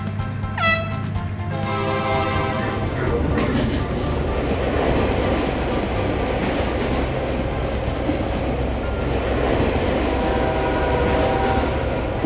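Cartoon trains racing along a track, a steady loud rumble of rolling wheels and rail clatter with a brief whistle-like tone near the start, continuous and close throughout with no talk.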